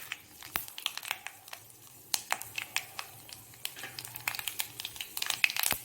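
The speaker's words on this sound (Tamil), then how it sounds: "தாளிக்கிறதுக்கு கடுகு உளுத்தம்பருப்பு போட்டாச்சு." Mustard seeds and urad dal frying in hot coconut oil, a tempering for pusanikkai kootu, give off irregular sharp pops and crackles that quicken toward the end, close and moderately loud with no talking.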